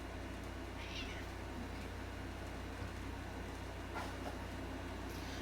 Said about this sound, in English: my cat's yelling at me